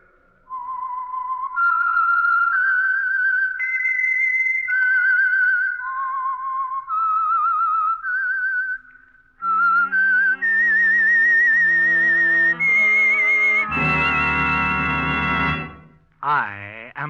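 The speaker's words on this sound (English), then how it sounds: "That whistle is your signal for the Signal Oil Program," Whistled theme tune of The Whistler radio show, a lone melodic whistle of eerie rising and falling notes that gives way to a loud orchestral chord and a short closing flourish.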